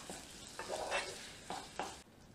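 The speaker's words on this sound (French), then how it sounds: "Donc je mélange bien." A spoon stirs a tomato paste mixture in a pan while cooking red lentil kofte, producing soft scraping strokes over a faint sizzle, close but quiet.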